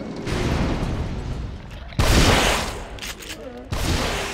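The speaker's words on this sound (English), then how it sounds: "I'm not really sure how I missed his head with that shotgun shot" Shotgun blasts in the survival-horror video game The Evil Within, with two loud, sharp booms about two seconds apart standing out over a dense bed of game noise and talk.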